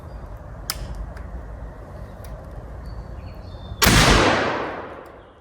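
A black powder percussion cap gun fires once outdoors in UK woodland, a sudden loud blast that rolls away in a long fading echo after a few quiet clicks and steady background hiss.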